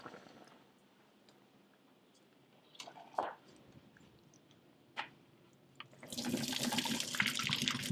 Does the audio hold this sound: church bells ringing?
no